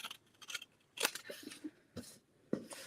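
Scissors cut card along a pencil line for a pop-up house card in a few close, distinct snips spaced irregularly, with faint rustling between them.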